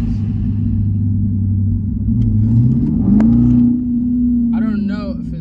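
A car engine idles with a low steady rumble, rising in pitch as it revs, with a voice speaking briefly near the end.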